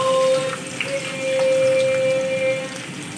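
Chopped onions fry in a pan with whole spices such as bay leaf and cloves for an egg masala curry, giving a steady, close hiss and sizzle with a faint whistling tone running through it.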